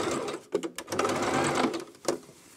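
A sewing machine topstitching trousers runs in short stop-start bursts with brief pauses, close and fairly loud.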